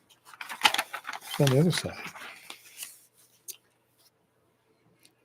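Scissors snip through glossy pages of a 1961 Life magazine, a few short crisp cuts and rustles heard close up, with someone talking over much of it.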